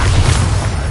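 A loud, close blast from the Confringo fire spell in the Hogwarts Legacy game, a heavy booming burst with deep rumble that fills the whole moment without any talk.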